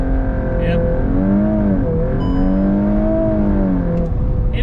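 A VW MK8 Golf R makes a launch start on an uphill road, its engine droning steadily and rising and falling in pitch as it pulls hard. The sound is loud and continuous, with a voice faintly audible underneath.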